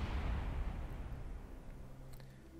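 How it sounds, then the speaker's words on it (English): A toy rocket explodes in Kerbal Space Program, a muffled low boom that rumbles and slowly fades over a couple of seconds. "there goes our massive toy rocket. Kaboom."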